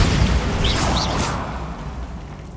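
A Bombarda spell explodes in Hogwarts Legacy, opening with a loud, close blast and crashing burst, then a brief whooshing swirl that fades into a decaying rumble.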